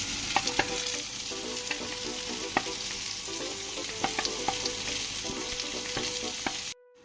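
Beans, carrot and onion fry in a pan, a steady close sizzle with occasional stirring scrapes and clicks that runs continuously for about seven seconds and then cuts off abruptly.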